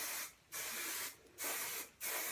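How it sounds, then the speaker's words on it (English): Hairspray sprayed onto a hair bun in three separate bursts, each a steady airy hiss about half a second long with short silent gaps between them, close and fairly loud. "And then spray your bun"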